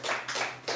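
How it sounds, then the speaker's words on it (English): Audience clapping in a Toronto stand-up comedy club as the next comic is called to the stage, a short burst of hand claps with two swells, fairly quiet and with no talking over it. "clap it up for Lester Fernandez"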